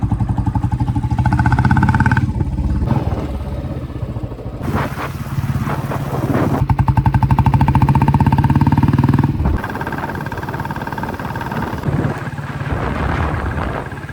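A Bullet motorcycle engine thumps steadily as the bike rides along, loud and close, its revs rising and easing in a few stretches.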